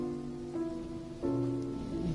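Steady rain falling in the video game Genshin Impact, a soft continuous patter on surfaces beneath faint tonal game music, fairly quiet throughout.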